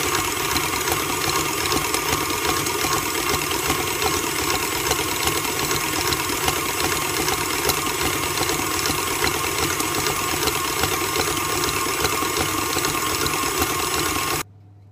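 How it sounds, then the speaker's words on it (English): Electric hand mixer whisks double cream into cream cheese icing, a loud, steady motorized whirr running continuously before cutting off abruptly at the end. "I'm going to whisk in some double cream"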